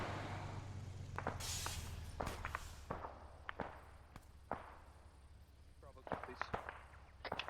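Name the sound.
distant gunfire in ARMA 3 video game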